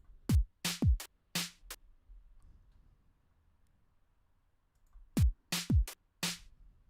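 An 8-bit chiptune drum beat made with the Magical8bitplug2 synth plugin plays as two short groups of punchy kick-and-snare hits with a pause between them, clean and isolated.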